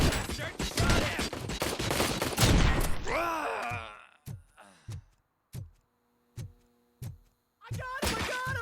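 Gunfire in the video game RoboCop: Rogue City, a dense burst of shots over shouting voices, then a run of separate loud single shots spaced about a second apart with quiet gaps between them.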